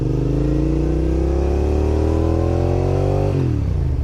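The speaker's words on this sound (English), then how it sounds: "slowly let out your clutch, apply more throttle" A motorcycle engine revs as throttle is applied, a loud close roar climbing steadily in pitch for about three seconds before the revs abruptly fall away.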